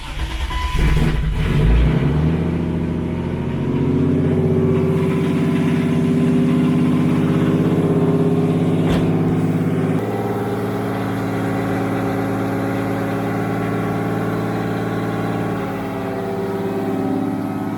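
Turbocharged BMW E36 engine idles steadily after a brief blip at the start, a continuous low droning hum with a faint shift in tone partway through, close and loud with no talking.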